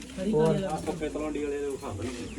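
Large pigeons in a loft give soft throaty coos, close and fairly loud, overlapping with a voice talking nearby.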